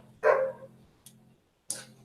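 A neighbor's dog gives one loud, full bark followed by a couple of short, sharp yips, close by, over a low steady hum.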